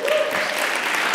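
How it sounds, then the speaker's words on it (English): An audience at a panel discussion applauds, a dense, steady wash of clapping that fills the short stretch at close range with no voices over it. "I'll clap for them too."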